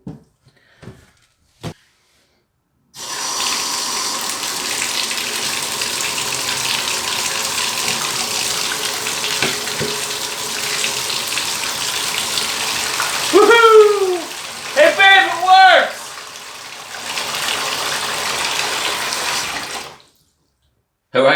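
Water pours steadily into a bathtub while a new drain stopper is tested, a continuous rushing gush that runs for most of the time, with brief gurgling and splashing partway through.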